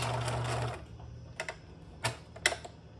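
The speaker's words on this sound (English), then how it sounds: "it's going much faster because my seam is set to 5, so the stitches are kind of huge" Sewing machine running long gathering stitches at stitch length 5 on a gathered seam, a fast buzzing run that stops, then a few soft clicks and taps from the machine, close and quiet.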